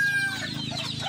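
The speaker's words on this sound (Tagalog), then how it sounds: "Ito po yung mga inahin natin." Mother hens, kept apart from the roosters, cluck in soft, overlapping low calls nearby, with a continuous murmur of a small flock and no speech.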